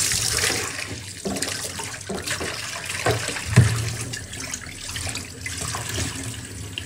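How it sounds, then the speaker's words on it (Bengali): Tap water runs and splashes while an old, freshly scrubbed cooking pot is rinsed, a steady close rushing stream with some sloshing and one brief knock of the pot, with no talking. "একটু ধুয়ে দেখি যে কতটা পরিষ্কার হয়েছে।"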